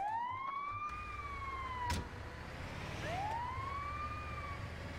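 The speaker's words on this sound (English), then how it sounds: "Let's turn off that siren." In the GTA 5 video game, an ambulance siren wails in rising and falling sweeps, with a sharp click partway through; it is fairly loud and steady, with no talking.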